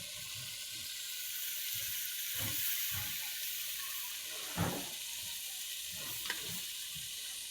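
Chicken gizzard and liver fry with ginger and a splash of water in a pan on a clay stove, giving a steady soft sizzle with occasional stirring scrapes and clinks, faint and close with no talking.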